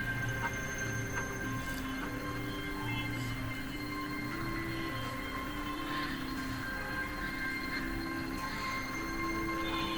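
A metro rail train runs past in a quiet open area in the morning, giving a steady, sustained mechanical drone with tonal whine that holds for the whole stretch, with faint bird calls over it.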